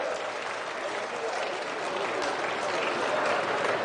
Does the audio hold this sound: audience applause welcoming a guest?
yes